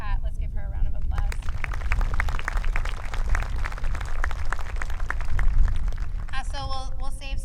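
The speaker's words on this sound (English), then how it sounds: "Let's give her a round of applause" A school band concert audience gives a sustained round of applause, a dense, steady clatter of many hands lasting several seconds, with a voice speaking just before and after.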